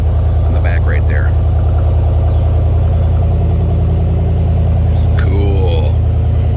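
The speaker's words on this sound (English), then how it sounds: "It just roars to life. Cold start on the Borla muffler." A truck engine fitted with a Borla muffler idles after a cold start, a loud, close, steady low rumble that carries on throughout while brief voices speak over it.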